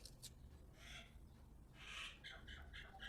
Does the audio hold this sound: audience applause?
no